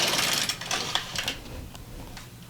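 An LK150 knitting machine carriage is pushed across a row, a quick burst of mechanical clicking and rattling that is loudest at the start and then thins to a few light clacks.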